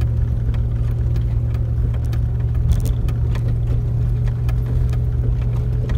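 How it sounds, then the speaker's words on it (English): A heavily loaded off-road vehicle, packed with camping and hunting gear, labours in low gear with a steady, loud engine drone that stays constant throughout, along with faint rattles from the load. "this vehicle is doing its maximum right now"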